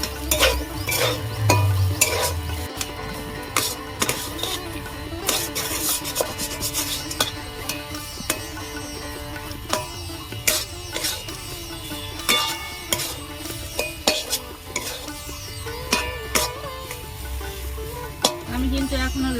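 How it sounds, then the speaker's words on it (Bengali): Mashed potato for katla fish chops being stirred and fried in a pan, with continuous rubbing and scraping strokes over a soft, steady sizzle and no talking. "আমি আলু ভালো করে গেট করে নিয়েছি সাথে নাড়াচাড়া করে ভালো করে কষিয়ে নেবো"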